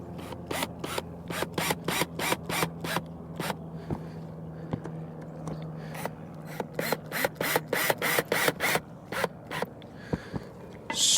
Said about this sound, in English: you're going to compress this rubber seal all the way down